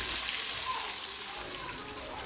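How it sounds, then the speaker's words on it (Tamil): Water pours into oil-eggplant curry (ennai kathirikkai kuzhambu) simmering in a pan, a soft, steady hiss and splash close by that continues throughout. "வேணுங்கிற அளவுக்கு தண்ணியும் ஊற்றிக்குங்க."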